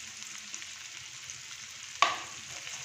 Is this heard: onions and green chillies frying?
yes